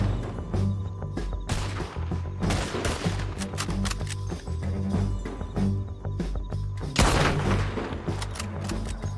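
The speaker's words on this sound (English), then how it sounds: "No idea what I was shooting at there." Rapid, dense gunfire from the Red Dead Redemption 2 video game: loud shots overlapping in a near-continuous barrage, with a few heavier blasts standing out, and no talking.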